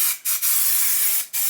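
A loud, close aerosol can of spray adhesive hisses in three steady bursts separated by brief gaps.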